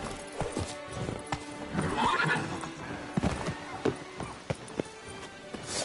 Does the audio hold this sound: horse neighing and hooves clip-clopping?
yes